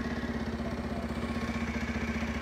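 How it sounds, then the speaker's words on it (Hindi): A Bajaj Pulsar NS125 motorcycle idling close by, a quiet, steady low thrumming pulse with an even rhythm and no other sound. "अब स्टार्ट कर लेते हैं पल्सर को।"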